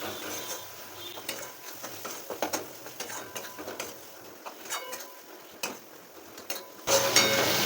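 Ground cumin and Kashmiri chilli powder being stirred and fried in a pan for potoler dim dorma: a spoon scrapes and clatters in an irregular rhythm over a soft, continuous sizzle, and the frying noise grows louder at the very end.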